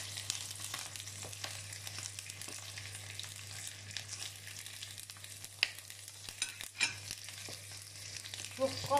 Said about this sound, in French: Donc je les fais revenir pour que ce soit bien doré